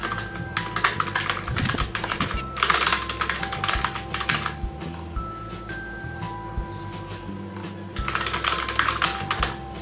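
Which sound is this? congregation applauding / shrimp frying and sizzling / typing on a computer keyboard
typing on a computer keyboard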